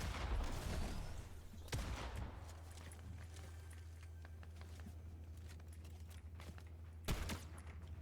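Gunfire in the video game Fortnite: a couple of sharp shot bursts, one early and one near the end, over a steady low hum of game ambience with scattered faint footstep-like ticks.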